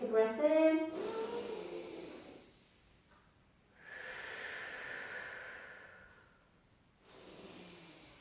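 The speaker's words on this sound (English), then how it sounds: "Take a breath in." A slow, soft inhaled breath during a gentle pilates side stretch, close and quiet, drawn out over a couple of seconds and repeated after a pause.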